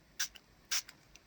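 Two short, sharp hissing bursts from a Distress Oxide ink spray bottle over stamped images, close up, each followed by a faint click.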